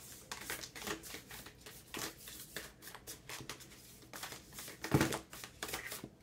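Archetype oracle cards being shuffled by hand close to the microphone, a quick run of riffling, flicking card sounds with a sharper tap near the end and no talk.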